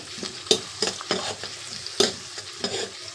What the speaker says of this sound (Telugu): చిన్న చిన్నగా కట్ చేసి పెట్టుకున్న ఉల్లిపాయ ముక్కలు పచ్చిమిర్చి వేసేసుకోవాలి బాగా ఫ్రై చేయాలి